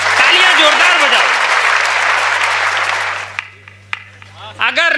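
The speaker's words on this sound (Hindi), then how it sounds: "तालियां जोरदार बजाओ।" Loud applause from the audience at a Hindi comedy poetry recital, thick clapping that dies away after about three seconds, with a voice cutting in afterward.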